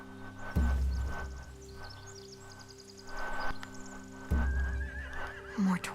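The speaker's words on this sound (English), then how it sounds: "They have horses." Horses neighing in The Walking Dead video game: two loud whinnies a few seconds apart, with light hoof clops and faint ambient noise between them.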